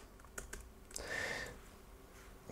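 Typing on a computer keyboard during office property-administration work, heard as quiet clicks. A few scattered keystrokes come first, then a denser burst in the middle, with soft room noise behind and no talk.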